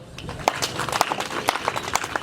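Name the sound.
audience applauding the regional manager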